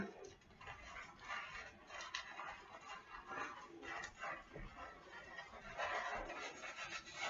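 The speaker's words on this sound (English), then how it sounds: "Rubbing my scalp. Getting that shampoo up in my scalp." Fingers work shampoo into a scalp, producing soft, close, irregular rubbing and squishing sounds that rise and fall at a low level.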